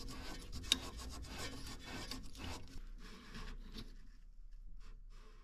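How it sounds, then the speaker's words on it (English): Metal coilover collar on a seized car suspension coilover being turned by hand, a close scraping, rasping rub that continues for a few seconds, then fades to quieter intermittent scratches. "So we first rotate the A color by hand, counterclockwise."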